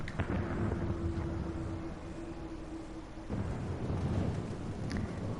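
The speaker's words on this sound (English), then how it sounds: "What unseen lightning begets such thunderous report?" Thunder in the online video game Final Fantasy XIV, a low rolling rumble with rain-like hiss and a brief tonal hum, moderately loud and sustained throughout.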